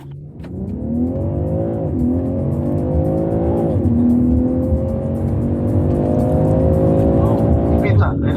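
At an Easter race event, a car running poorly on its fuel mix revs hard in a long, rising, sustained roar close by, the engine pitch climbing steadily.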